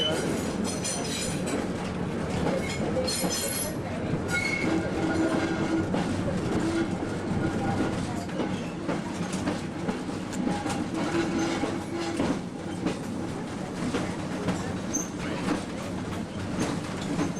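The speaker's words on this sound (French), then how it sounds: "Qu'est-ce qu'on est bien dans le tramway?" Ride inside a tram on rails: a continuous low rumble with rhythmic clatter and faint squealing of wheels, steady and close, with voices talking in the background.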